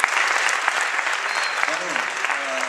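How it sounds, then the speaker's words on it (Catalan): Applause from a theatre audience at an amateur play, a steady wash of clapping that holds at an even level throughout, with some voices and faint tonal sounds rising through it. "Un aplaudiment per ell, vinga."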